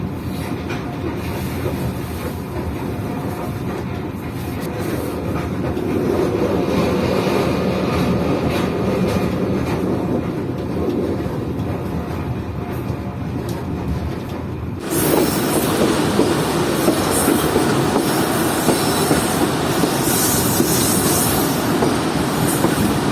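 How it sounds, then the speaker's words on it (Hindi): The Shah Hussain Express rolls into Khairpur railway station, with loud, sustained rumbling of wheels on track, rattling carriages and squealing wheels, heard from on board and growing louder partway through. "हमारी ट्रेन पहुंच रही है खैरपुर रेलवे स्टेशन पर।"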